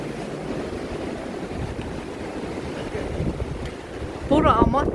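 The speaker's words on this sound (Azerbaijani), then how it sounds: "Hava dəhşət küləklidir." Strong wind in Vietnam buffets the microphone with a continuous low roar and gusty rumble, rising slightly near the end, where a brief tonal sound cuts through.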